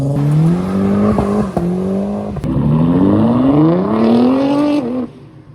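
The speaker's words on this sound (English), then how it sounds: "you could watch people leaving as well and hear some amazing exhaust notes" A car leaving a car meet revs loudly up close, its exhaust note climbing through a couple of gear changes before dropping away at the end.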